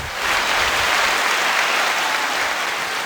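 Canned applause from a large unseen crowd, a thick continuous roar of clapping that swells in quickly and holds at a steady, loud level without any voices.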